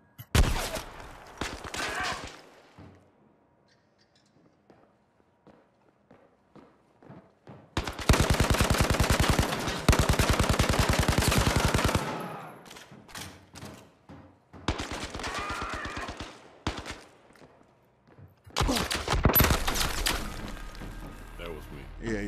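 Automatic weapon fire erupts in long, loud bursts and shorter rattling volleys in the VR shooter game Zero Caliber, separated by quiet gaps, with players talking between and over the shots.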